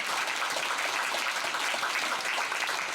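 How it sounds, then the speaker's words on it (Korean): A church congregation applauds after the choir and orchestra, a steady, dense wash of many hands clapping at moderate distance with no voices standing out. "주님께 크게 감사와 영광의 박수 크게 올려드립니다"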